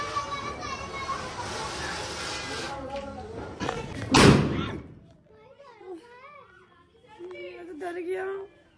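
An aloo bomb firecracker bursts outdoors during Diwali celebrations, one loud sharp bang midway through, while children chatter and call out before and after it.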